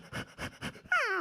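A man imitates a dog with three quick, rhythmic bark-like huffs, then a rising, whiny yelp at the end.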